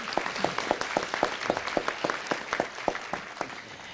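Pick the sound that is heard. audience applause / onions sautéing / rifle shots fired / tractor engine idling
audience applause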